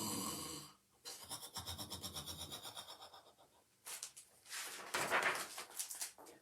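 Voices imitate a bear snoring at a preschool storytime, with several rough, rasping breathy snores in a loose rhythm and brief pauses between them, fairly close and moderately loud.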